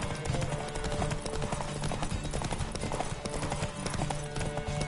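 A horse gallops in The Witcher 3: Wild Hunt, rapid rhythmic hoofbeats driving steadily under game music, close and continuous for several seconds.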